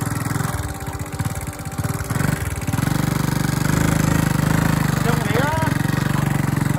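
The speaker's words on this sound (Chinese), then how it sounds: "因为塞车，所以我们加摩托，结果摩托上山，上不到。" A motorcycle carrying two riders struggles up a steep slope on the way to the Mossy Forest in the Cameron Highlands tea country. The engine chugs in rapid, uneven pulses, then holds at a steady, labouring drone up close.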